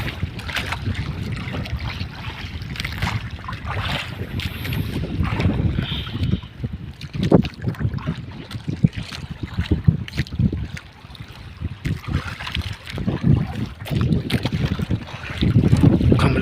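Choppy sea waves and strong wind roar continuously around a small boat, with heavy wind buffeting, splashing slaps and rumbling water throughout.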